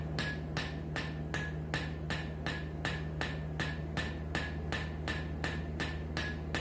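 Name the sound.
small hammer striking broken bolt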